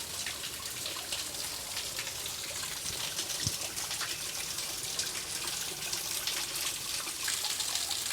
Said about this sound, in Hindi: ये झरना है, पानी लगातार यहाँ गिर रहा है पहाड़ों से।